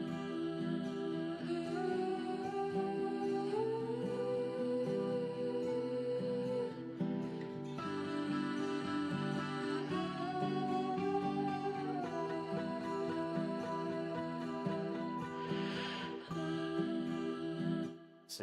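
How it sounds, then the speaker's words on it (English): Type beat melody built in FL Studio, a soft layered synth and guitar-like loop repeating steadily with gliding lead notes, fairly quiet and without drums or voices. "So all together, the melody sounds like this."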